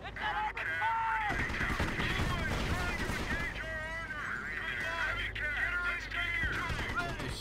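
Mortar and gunfire booms in the World War II strategy game Company of Heroes, loud and continuous for several seconds, with someone talking over the battle noise throughout.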